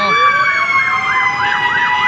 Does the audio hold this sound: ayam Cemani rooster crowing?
no